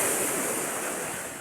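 Water rushes hard and steadily through a channel, a loud, close, unbroken roar with nothing else over it.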